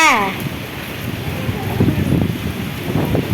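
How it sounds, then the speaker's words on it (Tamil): Strong wind buffets the microphone with a loud, continuous, low rumbling roar outdoors at a festival, along with a voice near the start. "அம்மோ செம்ம காத்து அடிக்குது அம்மோ"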